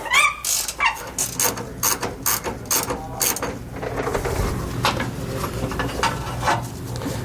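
A ratchet loosens tight frame bracket bolts for a rear anti-sway bar on a 2017 Newmar Canyon Star motorhome, with a rapid run of close clicks followed by steadier grinding and mechanical rattling.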